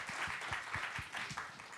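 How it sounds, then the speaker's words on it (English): Applause for the panelists closing a panel discussion on Indo-Pacific challenges at a TIOF foundation event, a steady patter of moderate clapping with some individual claps standing out, lasting about two seconds. "Give a big hand of applause for the panelists here"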